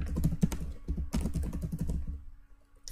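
Close computer keyboard typing as code is entered, a quick uneven run of clicking keystrokes that tapers into a pause near the end, without any speech.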